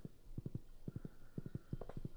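Horse hooves clip-clopping while riding in the Stardew Valley video game: quick, evenly spaced hoofbeats in repeating groups of three, close and clear over soft background music.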